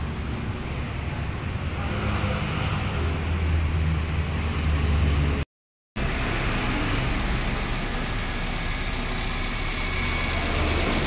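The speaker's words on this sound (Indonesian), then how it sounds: "Mesin sudah dalam kondisi nyala." A Honda Jazz i-DSI engine idling during an ignition coil check, a steady, low, continuous hum held close and unchanging, broken once by a brief gap of silence midway.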